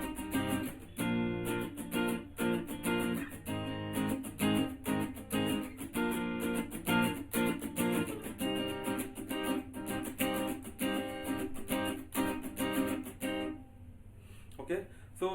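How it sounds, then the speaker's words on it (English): A guitar strums the 16-stroke pattern of a song from Pati Patni Aur Woh, with steady, even down-up strokes for about thirteen seconds before stopping. "in original the strumming pattern will sound like this"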